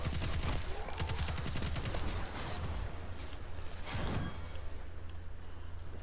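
Rapid automatic gunfire in Destiny 2, a quick stream of shots in the first couple of seconds and another burst later, moderately quiet, over a steady game background hum.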